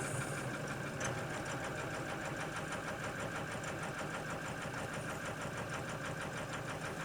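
A cold high-mileage car engine with 280,000 miles starts and settles into a steady idle with a slight miss. The even mechanical ticking and rumble holds close and loud throughout, with no talk.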